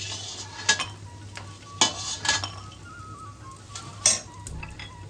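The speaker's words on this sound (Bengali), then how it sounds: "এবার আমি বড়িগুলোকে ভেজে নিচ্ছি।" Homemade lentil dumplings (bori) fry in hot oil in a wok, a steady soft sizzle broken by several sharp scraping clinks of a spatula stirring against the metal.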